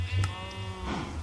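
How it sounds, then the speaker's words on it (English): Minecraft cows low and bellow close by, two or three drawn-out, harmonic animal calls overlapping in quick succession. "The cows are loud."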